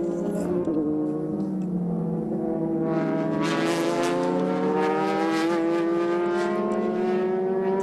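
A Super GT race car powered by a 4.5-litre Mugen V8 screams past at the Motegi circuit, its engine note climbing through the gears, loud and sustained, with crowd and track ambience.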